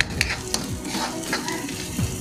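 Garlic, onion and ginger sautéing in a pan for squid adobo in coconut milk, a steady close sizzle with a few sharp stirring scrapes and clinks of a utensil, no voices.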